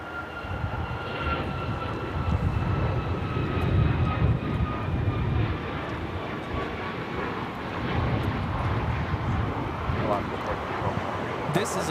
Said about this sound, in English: 1412 taking off to Liberia on the MAX 9